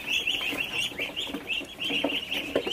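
Ducklings on a duck farm give a continuous chorus of high, rapid peeps and chirps, close and fairly loud, with no one speaking.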